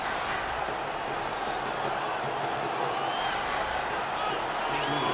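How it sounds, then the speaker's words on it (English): A hockey arena crowd roars in the NHL 18 video game on PS4 after a fight between the Blues and Columbus, a dense continuous cheer at steady loudness, with commentary talk mixed in. "The crowd is so pumped right now."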